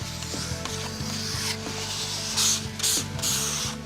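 Glue being scraped across a laminate sheet and MDF panel for a kitchen island, a close, steady grinding scrape with repeated rough strokes and a few sharper hiss-like swipes.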